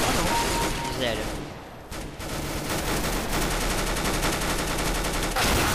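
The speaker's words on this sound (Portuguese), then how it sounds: "Eu atirei na cara dele, não morreu" Rapid gunfire in Counter-Strike: Global Offensive, loud bursts and sustained shooting filling nearly the whole stretch, with a brief lull in the middle.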